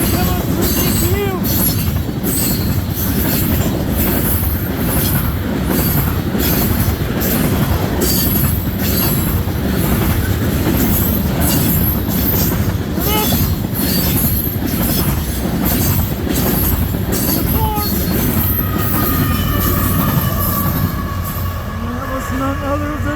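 CN freight train U754 hauling a diesel oil load rolls past close by at Ladysmith, Wisconsin, with a loud continuous rumble, rhythmic clickety-clack of wheels and squealing flanges toward the end.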